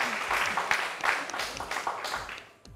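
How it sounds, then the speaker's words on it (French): A studio audience at a French television game show claps, a short burst of applause that thins out and fades at the end. "Applaudissez, hein? Applaudissez."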